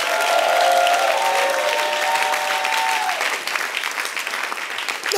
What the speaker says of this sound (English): Give the Lord a clap and a shout for you.